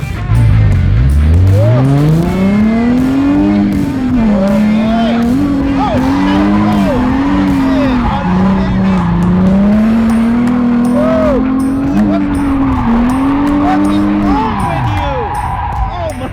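A drift car roars and skids with long, wavering tire squeals, loud and close, its engine pitch rising and falling throughout.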